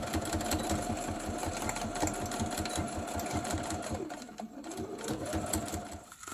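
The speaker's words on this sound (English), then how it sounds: "And I'm gonna do just straight stitching here." Sewing machine running straight stitching on a leather bag, a rapid steady mechanical chatter with a humming motor tone, close and continuous, briefly slowing near the end before resuming.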